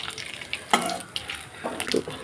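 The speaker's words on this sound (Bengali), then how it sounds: "জিরাটা একটু ভালো ভাজা হোক" Whole cumin seeds with cardamom fry in hot oil in a pan, giving a soft, close crackle and sizzle with a few light stirring scrapes.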